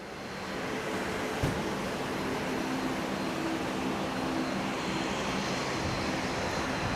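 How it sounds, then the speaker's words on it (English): A Jetstar airliner taxis at Brisbane airport, a steady, broad jet engine rumble and hiss heard from a distance, continuous and unchanging throughout with no speech. "Got a Jetstar taxiing over."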